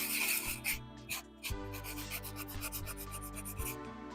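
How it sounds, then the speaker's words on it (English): Sandpaper rubs down the surface of a handmade statue in close, uneven strokes, a dry scraping rasp with a few heavier pushes in the middle, heard alone without talk. "I'm sanding this down."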